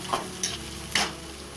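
Chopped onion fries and sizzles in a pan on an Indian home stove, a steady hiss broken by a few soft scraping stirs.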